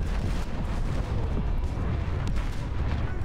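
Continuous heavy roaring and booming of warship missile launches in War Thunder Mobile naval combat, dense and loud throughout with no clear breaks.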